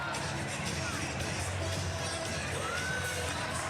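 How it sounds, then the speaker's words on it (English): Home crowd of students cheering at a BYU gymnastics meet against Utah State in an indoor arena, with sustained distant roaring and shouting, faint whistles rising above the babble. "you can see the student sections going wild"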